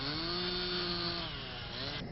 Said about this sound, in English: This powerful chainsaw is designed to cut through hard objects like ice